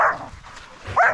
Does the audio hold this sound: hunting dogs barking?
yes